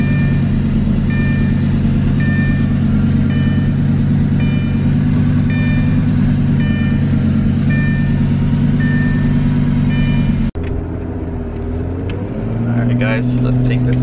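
A Lamborghini engine runs with a low, steady rumble for most of the stretch, then the sound shifts abruptly as the car pulls off, its tone rising and changing near the end.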